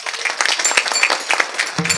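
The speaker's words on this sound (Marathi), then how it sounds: "एकदा जोरदार टाळी वाजवा" A kirtan audience claps in a sustained burst of applause, dense and steady for about two seconds before it thins out at the end.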